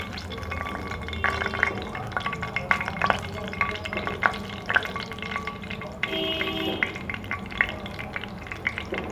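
Paneer cubes frying in hot oil in a home kitchen pan, a soft steady sizzle broken by irregular clinks and scraping of a spoon or strainer, moderately close with no talking.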